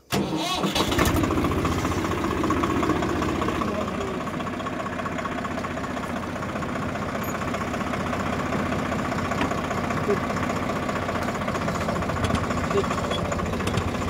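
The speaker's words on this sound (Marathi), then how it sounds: "आता आपल्याला ट्रॅक्टर चालू करून जरा पट्टीवर घ्यायला लागत्या।" A tractor engine cranks and catches at the start, then settles into a loud, steady mid-pitched diesel chugging that runs on evenly for the rest of the span.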